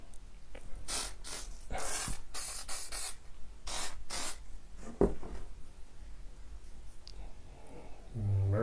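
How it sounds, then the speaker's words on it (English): Bursts of spray glue hissing from an aerosol can, several short and longer sprays in uneven rhythm, close and fairly loud, with faint handling clicks between them. "Might be time to buy some more spray glue."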